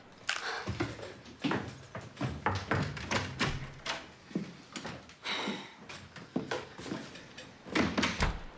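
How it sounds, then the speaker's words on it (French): A door opens with a series of soft knocks, thumps and handle rattles, moderately close and fairly quiet, ending in a few louder bumps. "Béa, ouvre la porte."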